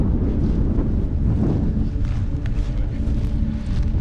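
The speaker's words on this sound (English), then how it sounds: "It's a bit scary in the wind when it's going" Strong mountain wind buffets a lightweight tent, a loud, continuous roar with gusty swells and rumbling low rushes throughout.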